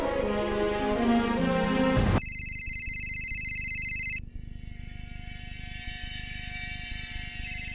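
A phone rings indoors with a bright electronic tone, starting after a stretch of music and repeating as a steady tonal ring, moderately loud and alone, with no voices.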